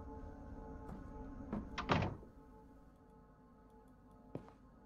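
An attic door in the horror game Fears to Fathom gives a short wooden thud-and-creak burst, moderately loud over a steady low room hum, with a faint click a couple of seconds later.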